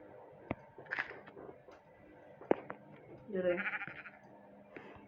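A sheep in a video game gives a short bleat. Scattered clicks and small game noises sound around it, and some faint speech-like sound is present.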